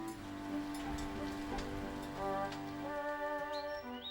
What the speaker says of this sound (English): The rain pelted down.